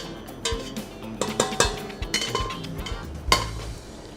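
Metal mixing bowl of choux pastry base set onto a stand mixer, with several distinct clanks and knocks of metal against metal, close by and loud, spread irregularly across a few seconds.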